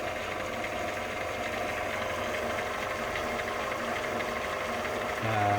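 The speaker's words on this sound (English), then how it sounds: "So this is it all assembled and chucked up in the lathe, and if I turn it on" A lathe runs steadily with a piston machining fixture chucked up for pre-war car pistons, giving a continuous mechanical hum with a faint rhythmic ticking and a slight shift in tone near the end.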